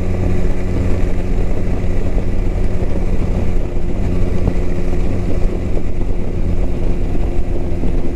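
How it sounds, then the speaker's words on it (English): A steady, close engine drone from a 2009 Honda Rebel 250 motorcycle underway, with a low rumbling hum and constant wind noise at an even level and no speech. "This is the Honda Rebel 250."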